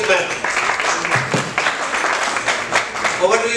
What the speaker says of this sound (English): So let us clap for this man.